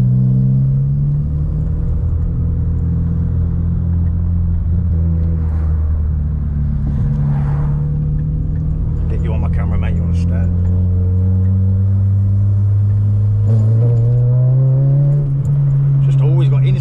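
A Citroen Saxo VTR with an 8-valve engine drones and rumbles loudly from inside the cabin while driving, revs rising and falling, with occasional rattles and people talking over it.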